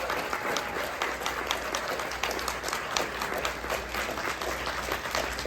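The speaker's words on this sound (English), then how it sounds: "Let's give him a round of applause." A convention panel audience at the Spooky Empire horror event claps in a sustained, even round of applause from a large hall crowd, heard somewhat distant under a constant roomy hum.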